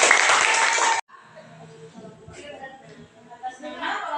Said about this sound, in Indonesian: tepuk tangan untuk Zian